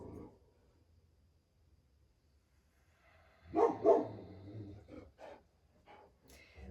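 Molly, a Great Pyrenees, lets out a couple of faint, muffled woofs followed by a few softer huffs in an otherwise quiet indoor room.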